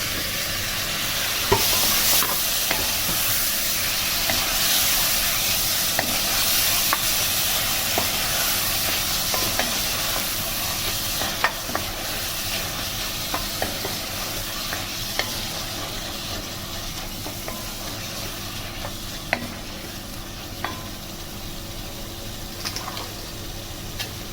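A spoon stirs spices and one spoon of red chili powder frying in oil in a pan for village-style Sindhi chana dal, with a continuous loud sizzle and hiss and light scraping taps throughout.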